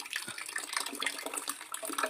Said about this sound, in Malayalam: ടാങ്ക് മെല്ലെ നിറയുന്നുണ്ട് എന്താ വെള്ളം വരുന്നുണ്ട്